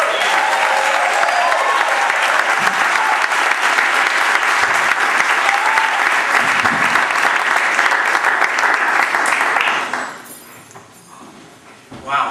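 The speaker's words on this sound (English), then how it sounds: "Let's give a warm round of applause for Neil." A comedy club audience applauds loudly and steadily to welcome comedian Neil Willman to the stage, a dense wash of clapping that fades out near the end.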